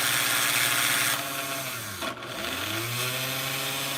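A small model crane motor, old and slow, whines steadily and loudly, its pitch dipping briefly midway before climbing back into a rough, chainsaw-like buzzing drone.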